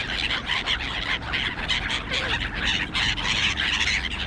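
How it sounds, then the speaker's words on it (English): A silver gull that has just landed gives short, scratchy squawks in quick bursts. The calls are moderately close, over a faint background hiss. "one silver gull there"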